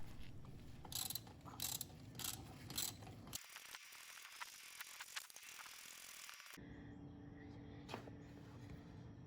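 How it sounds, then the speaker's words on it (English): A ratchet fitted with a 1/4 inch 12-point socket clicks in quick bursts while removing the brake pad bolts on a Harley-Davidson Electra Glide, the rapid pawl ticking close and fairly quiet, with short pauses between runs. "we're just going to need our 1/4 inch 12-point socket to remove the brake pads"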